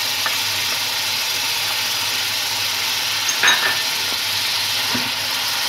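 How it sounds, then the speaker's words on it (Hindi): Mutton frying with garlic, ginger and chillies gives a steady, loud sizzle throughout, with a brief clatter of stirring in the middle. "अब इसको अच्छी तरह से भून लूंगी।"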